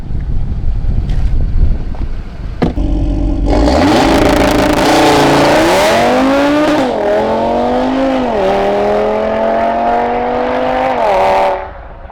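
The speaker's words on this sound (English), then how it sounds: "So launch control should be nice and sticky." A stage 2 tuned Audi RS3 idles, then a launch control start blasts into hard full-throttle acceleration, the engine note climbing through rising gear pulls with shifts between, loud and close under wind noise, ending abruptly.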